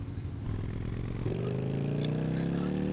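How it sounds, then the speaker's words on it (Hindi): Motorcycle engine revving in GTA Liberty City Stories, a steady mid-pitched drone that climbs in pitch as the bike accelerates, loud and continuous with no talking. "चेक करो गाइस बाइक की ड्राइविंग।"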